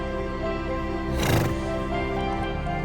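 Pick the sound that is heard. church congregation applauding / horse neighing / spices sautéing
horse neighing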